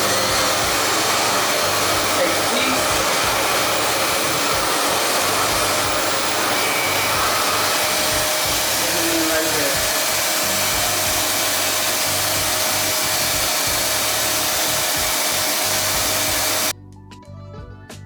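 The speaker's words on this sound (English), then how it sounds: "She is nice and blow dried out." A hair dryer blow-drying natural hair before mini twists, a loud steady whooshing drone with slight shifts as the airflow moves, running nonstop until it cuts off abruptly near the end.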